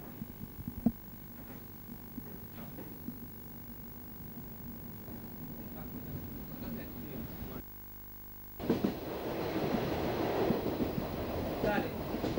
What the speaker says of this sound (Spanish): En estos momentos se está partiendo un nuevo convoy hacia Quilmes y Berazategui del ferrocarril Roca